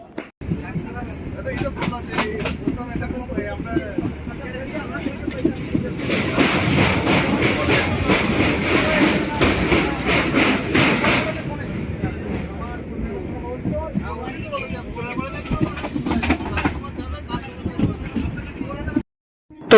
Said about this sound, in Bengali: আমাদের ট্রেন এখন ছেড়ে যাচ্ছে কামারকুন্ডু